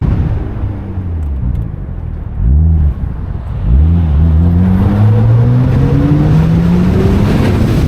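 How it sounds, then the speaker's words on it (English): Porsche 911 twin-turbo engine revving hard on a mountain road: loud, close rising and falling revs, with a couple of quick blips and then one long sustained climb in pitch, no talk. "When you get them twin turbos singing in the mountains like that and you're blasting down there"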